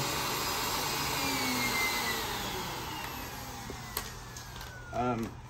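A Miele vacuum cleaner runs with a loud, steady whine and airflow roar that eases slightly before a brief knock and a short burst near the end.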